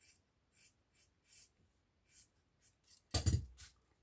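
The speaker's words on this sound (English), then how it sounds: "you will see if I just cut faux fur" Scissors snip through faux fur fabric in a quiet room, a series of soft, short cuts followed by one louder, rougher crunch near the end, close and alone.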